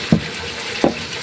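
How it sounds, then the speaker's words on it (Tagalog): Water poured into a cooking pan of chicken adobo, heard as two short splashing gushes about three quarters of a second apart over a low steady background. "Lagyan natin ng konting tubig"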